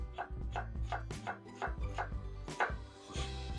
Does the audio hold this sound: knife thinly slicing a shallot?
yes